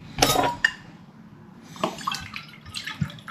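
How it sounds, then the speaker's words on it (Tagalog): Fish sauce, vinegar and water added to frozen mackerel in a pan: a few close splashes and pours with light clinks of dishes and utensils, then quieter scattered drips and taps. "Lagyan lang po natin na syempre ng patis, tsaka ng suka, at higit sa lahat, tubig"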